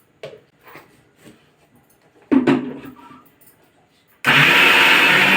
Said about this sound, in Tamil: இது அரைச்சி எடுத்துகிட்டு வந்துடலாம்.